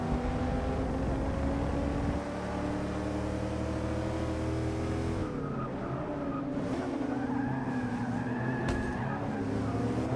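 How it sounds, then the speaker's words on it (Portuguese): A 1990 Chevrolet Camaro IROC-Z races in Forza Motorsport 6, its engine a steady, loud drone whose pitch rises and falls, with a rougher stretch of tire scrub midway. "quase que eu perdi o controle do carro ali"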